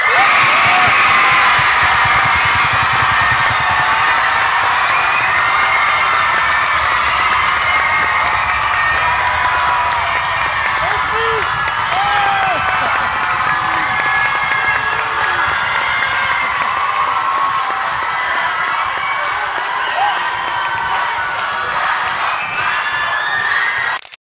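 An audience at an underage beatbox battle cheers, whoops and applauds loudly and continuously, a dense wall of crowd noise that holds steady from start to finish before cutting off.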